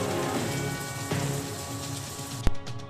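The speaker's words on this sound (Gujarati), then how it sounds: "પંથકમાં ધીમી ધારે વરસાદ વરસ્યો" Light monsoon rain falls steadily in a rural Gujarat village area, a soft continuous patter on surfaces with one sharp close knock near the end.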